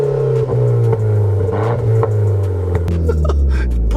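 A Renault Clio RS engine with RS drive mode switched on is revved hard. A loud, continuous rasping drone rises and falls, and small popping burbles crackle through it.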